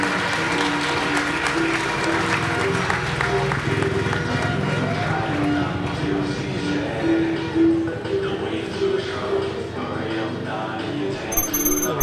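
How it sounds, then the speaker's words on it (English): A grandstand crowd at a speedway meeting applauds a rider coming through, a rumbling wash of clapping and crowd noise mixed with ambient track sound and a commentator talking over it. "he'll get a good round of applause from the people here in the grandstand"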